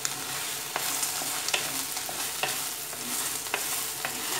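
Onions with turmeric powder fry in a pan while a utensil stirs them, steady soft sizzling broken by regular light scraping clicks, with no talk.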